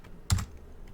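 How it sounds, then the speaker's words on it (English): A short burst of computer keyboard typing while tab-completing file names in a terminal, a quick cluster of close, crisp key clicks over a faint room hum. "So I'm typing part of the name, just hitting tab."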